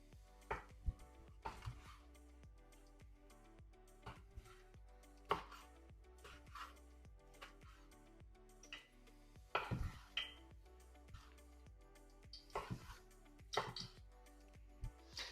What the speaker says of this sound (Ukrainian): я швиденько наріжу копченості